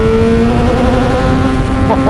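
A Kawasaki Ninja 636 motorcycle rides along with a steady, loud engine drone and a held tone that shifts slightly, in full power mode with traction control off and in need of a service; no one talks.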